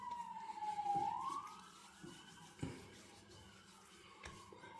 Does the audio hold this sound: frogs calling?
no